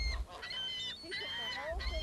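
Geese honking outdoors in a string of bright, nasal calls spread across the clip, with low rumbling background noise and a little talking.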